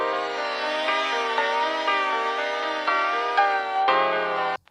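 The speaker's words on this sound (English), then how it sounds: "The record isn't moving at exactly the same speed all the time" Free vinyl-emulation plugin applying a record warp effect to a sustained harmonic tone, the pitch wavering slightly up and down as playback speed drifts, steady and close before cutting off abruptly.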